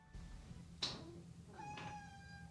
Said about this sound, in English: Sorry, my cat's here.